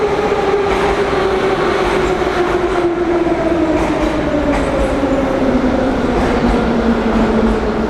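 Moscow metro train pulling into a station, a steady loud rumble of wheels on rail with a slowly falling motor whine running throughout, no voices.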